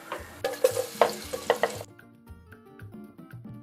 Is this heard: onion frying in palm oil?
yes